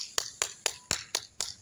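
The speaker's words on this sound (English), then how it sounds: "Okay, I'm clapping my hands" A teacher in a first-grade classroom claps her hands six times at an even, brisk pace. Each clap is a sharp, quiet smack with nothing else around it.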